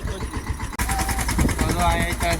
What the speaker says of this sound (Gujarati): મસ્ત ટ્રેક્ટર હાલવા મળ્યું છે આપણે